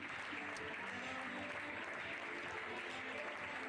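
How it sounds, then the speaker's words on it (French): Steady applause from an audience at a pony-games club prize-giving, cheering winners, continuous dense clapping throughout, quiet and somewhat distant. "Allez, vous pouvez les applaudir"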